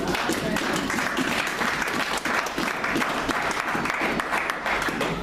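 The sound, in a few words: church congregation applauding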